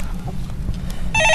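A telephone rings in a studio during a stock-market call-in broadcast, a bright electronic ring sounding near the end after a stretch of low background noise.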